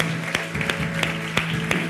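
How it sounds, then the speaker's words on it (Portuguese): A church congregation claps in a steady, even rhythm, with sharp, distinct claps roughly three per second over a low sustained hum. "Quem crê nisso, dá uma salva de palmas ao Senhor."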